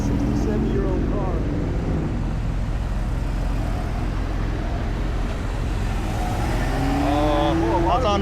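Vintage 67-year-old Porsche 356 driving in a Porsche Palooza parade in Eureka Springs, Arkansas, a low engine rumble rolling past amid other cars, with people chatting nearby throughout.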